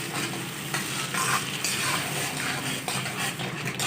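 Dal mash frying in a pan, a loud continuous sizzle with steady stirring and scraping of a spoon against the pan, close and busy throughout with no voices.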